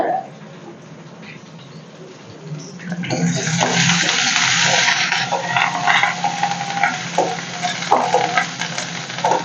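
Curry leaves hit hot oil for tempering a Kerala moru curry, with chopped shallots and fenugreek in the pan. A quieter stretch breaks into a loud, bright, crackling sizzle that stays busy and fluctuating to the end, with some stirring.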